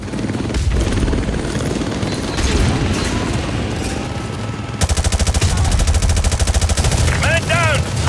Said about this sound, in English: Enemy helicopter, get down, get down!